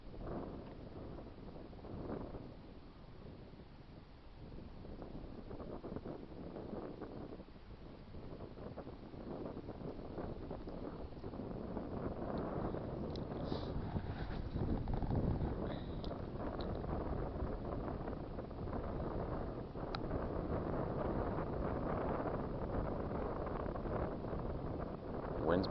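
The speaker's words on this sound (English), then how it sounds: "Wind's picking up and blowing me out of the spot" Gusty wind buffeting a microphone on a fishing boat at a bass spot, a continuous rumbling roar that builds steadily louder over the stretch, with no speech.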